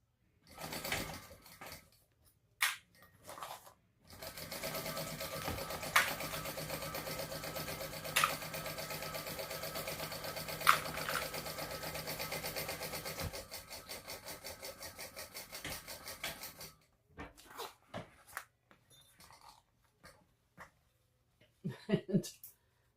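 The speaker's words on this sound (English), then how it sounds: "I finished sewing the two base panels onto the front and onto the back." A sewing machine stitches the panels of a crossbody bag in a long, steady mechanical whir that lasts about ten seconds, with a faster rattling stretch near the end. Short bursts of stitching and quiet handling come before and after it.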